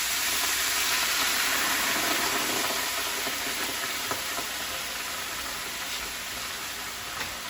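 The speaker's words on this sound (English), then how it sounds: "I'm just going to kind of pour it over the pork chops." Loud, steady sizzling fills the clip as vinegar is poured over pork chops in a hot pan, a broad hiss that slowly eases slightly, with a few faint clinks.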